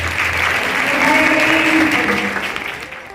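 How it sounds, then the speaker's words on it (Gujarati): Thousands of students clap loudly after a performance at a high school's 114th foundation day celebration, a dense, sustained wash of applause that fades slightly toward the end. "દરેક પરફોર્મન્સ પછી હજારોની સંખ્યામાં વિદ્યાર્થીઓના તાળીઓના ગડગડાટથી આખું વાતાવરણ ગુંજી ઉઠે છે"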